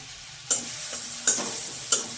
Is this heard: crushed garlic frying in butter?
yes